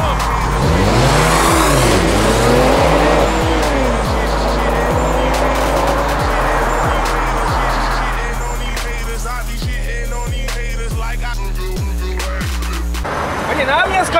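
An Audi Allroad and a Subaru racing, with engines roaring and revving close by, whining pitch rising through gear changes, plus rhythmic thumps and a brief tire squeal, while people talk.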